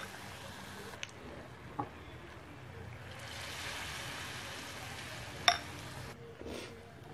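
Egg snack balls fry in hot oil with a steady bubbling sizzle that swells in the middle and carries a few sharp pops.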